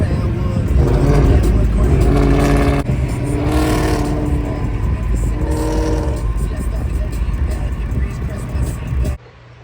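Cars, including a Mustang from a street race meet, roar along a freeway, with a loud, continuous engine and road rumble, revving surges and passing whooshes before the sound cuts off abruptly.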